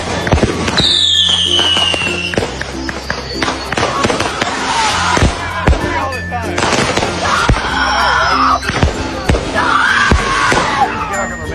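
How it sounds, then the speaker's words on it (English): Fireworks going off outside a house, a rapid run of loud cracking bursts and pops with whistling streaks, voices talking over the barrage. "it's literally just fireworks"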